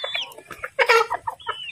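An Asil chicken clucks in a series of short, close, throaty bursts, with a louder squawking note in the middle.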